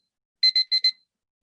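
Electronic beeping device in a room, four quick high-pitched beeps in an even rhythm, clean and close, followed by silence.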